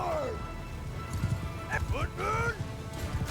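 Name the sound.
horses in Mount & Blade II Bannerlord video game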